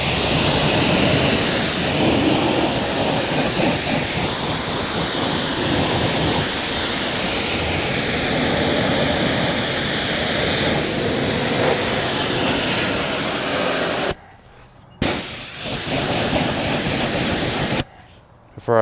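Water hisses steadily from a spray nozzle onto a Dodge SRT Viper, rinsing off accumulated sand in a loud, continuous wash, broken by two brief pauses near the end.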